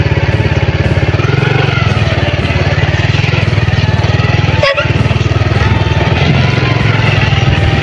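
Motorcycle engine running steadily close by, a loud, even, rhythmic chug that continues without a break, with one short thump near the middle and no clear talking.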